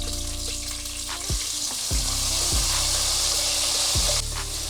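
Ginger garlic paste fries in hot oil in a pan with curry leaves, giving a steady hiss and crackle alongside a low hum and a few soft rhythmic thumps.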